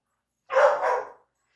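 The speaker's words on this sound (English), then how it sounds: "he usually barks at when people come to the back door or the front door" A dog gives a single loud, close bark lasting under a second, set off by someone at the door, with silence before and after.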